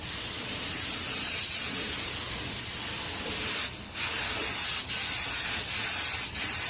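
Rust-Oleum paint hisses steadily from a spray gun onto a Club Car golf cart, close and loud, with a few brief breaks in the spray.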